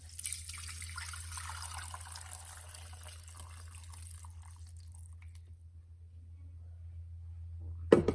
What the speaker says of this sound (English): I'm going to run it through this strainer into the other crock pot.